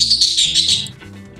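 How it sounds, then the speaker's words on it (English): Birds chirp in the background during an esports broadcast, bright rapid tweets close to the microphone for most of the moment before they fade out. "Always good to hear some background bird noises"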